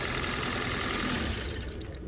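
A 1999 Acura TL engine runs steadily, then roughens and fades as the EGR solenoid is powered and the engine stalls, a dense close mechanical roar dropping off near the end.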